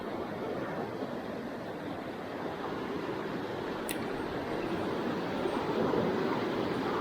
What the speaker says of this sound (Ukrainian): тут особливо і не розкажеш, тому що водичка шумить